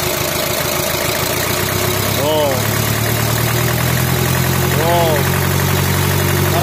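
A Toyota Taft F73 engine idles with a steady low rumble, rising twice in quick revs that fall back to idle, while someone talks over it at close range.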